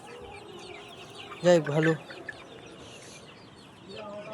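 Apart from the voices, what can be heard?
chickens clucking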